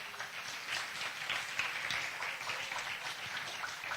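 Church congregation applauds together, a dense continuous wash of many hands clapping at a moderate distance, steady for the full length without talk.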